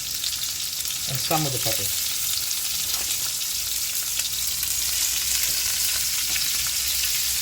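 Onions and peppers frying in a pan for a Greek-style baked omelette, a steady bright sizzle running throughout with occasional stirring clatter, and a brief spoken remark near the start.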